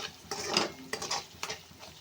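Fenugreek leaves and flour mixture stirred in a pan for a Gujarati dish, with a few brisk scraping strokes and soft sizzling at close range.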